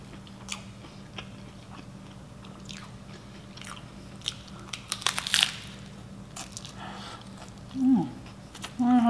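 Crunchy Taco Bell tacos are bitten and chewed up close, with crisp shell cracks and soft crinkles of wrapper in an irregular rhythm, plus a brief murmur of approval.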